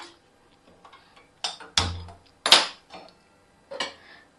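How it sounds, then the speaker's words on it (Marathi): A few sharp metallic clanks and knocks, spaced apart, as a heavy kadhai is set down and shifted on a stovetop. "चला आता आपण मस्त कढई ठेवून देऊ"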